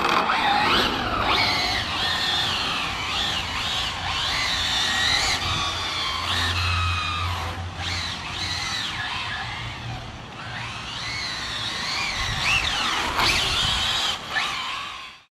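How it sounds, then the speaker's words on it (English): An Arrma Felony twin-motor RC car drifts beside a curb, its electric motors whining loudly and rising and falling with throttle while the tires scrub and squeal on the pavement, close by and continuous. "trying to drift next to that curb."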